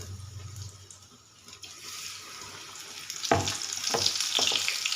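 Spinach pakoras frying in hot oil, a continuous sizzle that swells louder and brighter in the second half as more batter goes in, with occasional spoon clinks, close by and free of talk.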